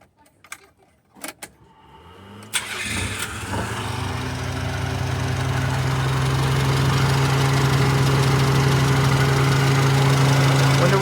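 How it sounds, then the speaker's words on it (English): A few clicks and clunks, then a Nissan Be-1's engine, fresh from an oil change, starts and settles into a steady, smooth idle that grows slightly louder and holds. "The engine's so quiet now with some nice fresh oil in it."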